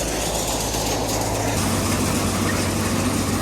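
A farm engine runs during crop spraying on a wheat and corn field, a steady loud low rumble that shifts to a slightly different drone partway through, with no talking.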